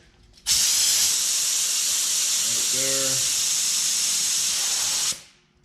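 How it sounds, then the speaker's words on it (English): An Astro Evo 13 budget paint spray gun sprays about six inches from the surface, giving a loud, steady hiss that starts abruptly, holds for several seconds with a brief tonal buzz midway, then cuts off and fades. "Now let's test out the Astro evot 13. This is a budget spray gun."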